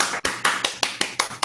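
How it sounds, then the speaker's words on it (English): Clapping after an open discussion session, a run of sharp, evenly spaced claps roughly every fifth of a second, close and crisp, sounding like a few hands rather than a large crowd. "let's clap all the speakers"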